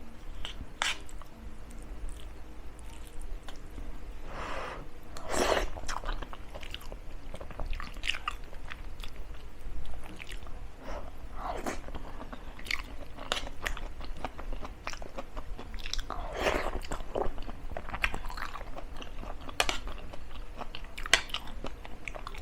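Close, quiet chewing and biting while eating chicken sinigang with pechay, irregular soft crunches and wet squishes spread across the clip, with no talking.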